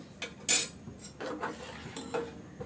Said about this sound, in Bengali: আমি ভালো করে নেড়ে চেড়ে মিক্স করে নিচ্ছি